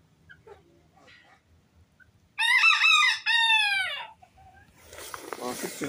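An Araucana rooster crows loudly and close by, a single long harmonic call with a brief break, preceded by faint clucks and rustling, with a short burst of noisy farmyard sound afterward.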